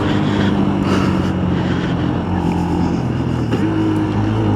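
Motorbike engine close and loud under wind rush, its tone dropping and shifting as the rider makes a harsh downshift into second gear.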